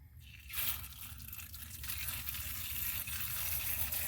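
Water pours steadily onto a small succulent in a pot on a saucer, a continuous close trickling and splashing that begins after a short quiet moment, with no talk.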